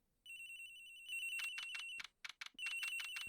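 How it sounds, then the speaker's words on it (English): Telephone in the Ace Attorney Investigations game rings inside an airliner's flight attendant's room, a bright electronic trill that starts after a brief pause and repeats in rapid, loud bursts with short gaps, alone without talk. "The ringing's coming from somewhere in here, sir."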